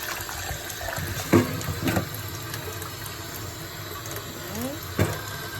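Water runs and sloshes in a kitchen sink after raw chicken has been washed for curry chicken, a steady broad wash with a few sharper knocks and splashes, close and moderately loud.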